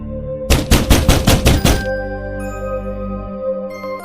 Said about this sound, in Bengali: কিছুক্ষণ পরে আবারও দরজা ধাক্কানোর আওয়াজ